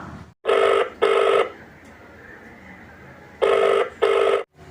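A telephone rings while a call is placed to a saree shop: two loud double rings, each pair a pair of short bursts, separated by a long quiet gap of line hiss.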